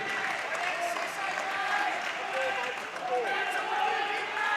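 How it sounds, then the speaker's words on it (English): Distant crowd applause and cheering at a cricket match roll on steadily throughout, a broad wash of clapping from a large gathering, with no voices up close. "can hear the crowd getting a little bit more involved."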